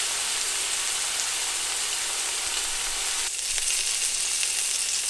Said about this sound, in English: We're going to let these cook undisturbed, and then we'll flip them over once they release easily